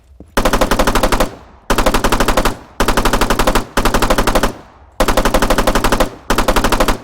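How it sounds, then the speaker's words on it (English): Automatic weapon fire from the video game Arma 3 Apex, six loud sustained full-auto bursts of about a second each with short silent gaps, close and alone. "let's check out the fire rate of this weapon"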